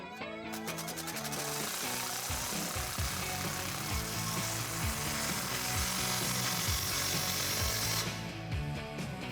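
A power tool drives down the exhaust clamp on a Jeep Wrangler JK axle-back exhaust with a Flowmaster American Thunder muffler, a steady close whirring grind with rhythmic pulses running through the whole stretch and no talking.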